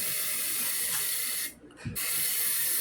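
An aerosol spray paint can hisses in a steady, close burst from 6 to 8 inches away onto an appliance, cuts out briefly for a moment, then resumes spraying evenly.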